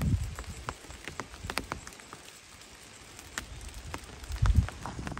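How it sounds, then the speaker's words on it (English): Rain falls on a forest trail, a soft scattered patter of drops on leaves and ground, fairly faint and uneven, with a few closer thumps. "It is raining again."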